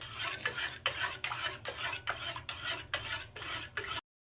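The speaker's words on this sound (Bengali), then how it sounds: "তো এবার সুজিটাকে আমি খুব ভালো করে সেদ্ধ করে নেবো এইভাবে অনবরত নাড়তে থাকবো এটাকে" Semolina simmering in milk and water is stirred steadily with a utensil, giving a rhythmic series of scraping strokes against the pot, roughly two per second, close and moderately loud with no talk.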